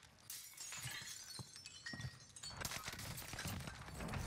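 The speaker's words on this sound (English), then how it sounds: "I just heard glass break." Glass shatters in the video game Warzone Rebirth, a burst of crisp breaking and tinkling shards followed by further cracking and clinking, moderately loud amid game noise with no talking.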